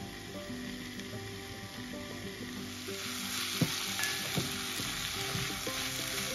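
Potato and cabbage curry cooking in a pan over lowered gas heat, a steady close sizzle and frying hiss with occasional soft stirring clicks throughout, no talk.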